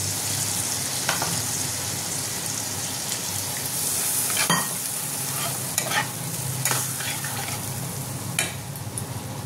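Chilli, coriander, cumin and garam masala powders with ginger and green chilli paste frying in a pan, a loud crackling sizzle broken by sharp spatula scrapes and stirring clatter.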